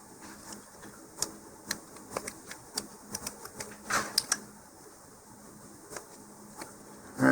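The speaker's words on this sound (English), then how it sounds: "it's just kind of shaving off a little bit of epoxy that got in there" A hobby knife shaves stray epoxy from a model rocket part, producing a series of small, close scraping ticks and clicks in an irregular rhythm over a quiet background.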